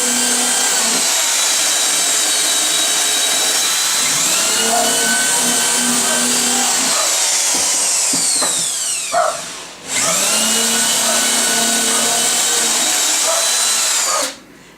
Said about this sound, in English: brought over his battery operated drill